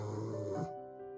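A voice imitates snoring with the lower jaw pulled forward, giving one short, rattling snore breath that stops abruptly, faint and close.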